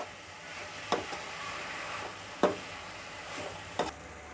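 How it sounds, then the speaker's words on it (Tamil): Masala with a pinch of turmeric sautés in a pan for semiya upma, a faint sizzle broken by three sharp clacks of the spoon against the pan at steady intervals. "இப்போ இந்த மசாலாவும் இது கூடவே நல்லா வதக்கணுங்க"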